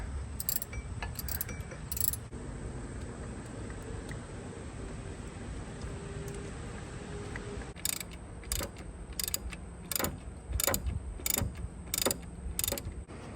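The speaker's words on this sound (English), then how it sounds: "I am just now tightening these bottom bolts" A ratchet tightening the bottom bolts on a Jeep LJ engine, heard as bursts of rapid close clicking that break off and start again over a steady background hum, with no talk.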